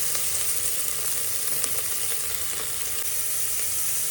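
Chopped amaranth leaves frying in a pan for masala khichdi give a steady, bright sizzle with faint stirring, even and close throughout.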